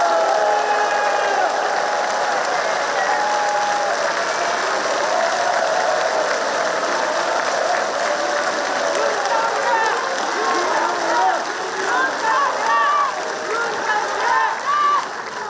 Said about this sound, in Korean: 우리 대통령님께 뜨거운 박수 부탁드립니다